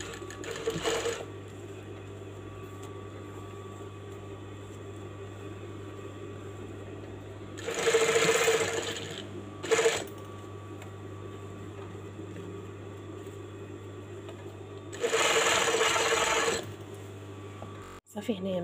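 A sewing machine stitches alongside elastic thread on a traditional kandura dress, running in three separate bursts of a few seconds each over a steady low hum, with pauses in between.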